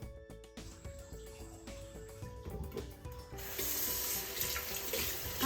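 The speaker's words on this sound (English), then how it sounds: "I'm just giving it a quick wash and a scrub because it's been gathering dust sitting on my shelf for some time." A small glass nano betta aquarium tank is washed and scrubbed in a sink, with rubbing and scraping sounds followed by a louder rush of running tap water in the second half.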